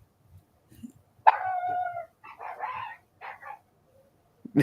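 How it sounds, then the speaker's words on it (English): A dog barks and yips in a short burst of harsh, strained calls, a sharp bark leading into a wavering howl-like whine, then a few clipped yelps, heard fairly close in a hot indoor setting with no talking. "stupid dog."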